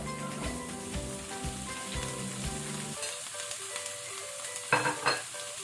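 Capsicum frying with onion over high flame for pav bhaji, a steady close sizzle with a soft melodic tone underneath at first, followed by a couple of sharper stirring clatters near the end.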